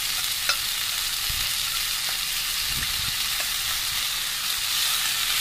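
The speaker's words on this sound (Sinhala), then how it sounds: "දැන් අපි මේක හොඳට තෙලේ කවලම් කරගන්නවා" Green beans (mae karal) stirred through hot oil in a pan, a continuous close sizzle with soft scraping and occasional spoon taps, no voices.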